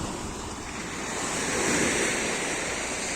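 Sea waves washing onto a fog-covered beach, a steady broadband surf roar that swells slightly midway, with light wind noise on the microphone and no voices.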